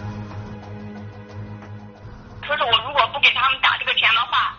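A telephone rings with an incoming call, its melodic ring rising loud and clear in the second half over a low steady hum.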